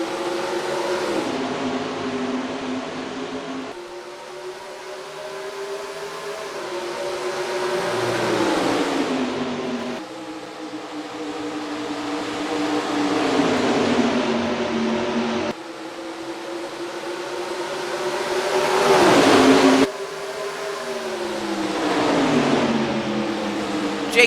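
Pack of NASCAR stock cars in NASCAR Racing 2003 roaring off the green flag at ISM Raceway, engines droning and revving in long rising and falling sweeps, with distinct passes as cars surge by, loud and continuous with no talk.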